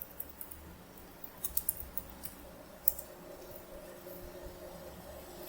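Faint, irregular clicks of typing on a computer keyboard, a few scattered keystrokes in short bursts over a quiet background hum.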